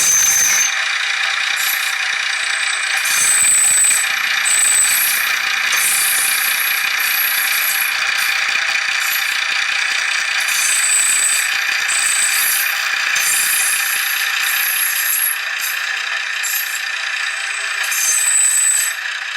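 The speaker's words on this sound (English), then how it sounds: "Wheel flange noise can be applied by using function 14." Wheel flange noise from a DCC sound decoder in a Class 128 model train, a continuous high metallic squeal and screech with shifting tones and rattly clicks, loud and steady throughout with no voices.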